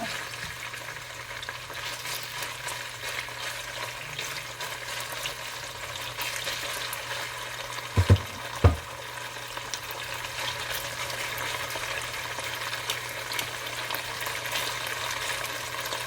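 Pork sizzles in hot oil for a stir-fry, a steady broadband frying hiss that runs without a break, with a couple of brief low clicks partway through and no talking.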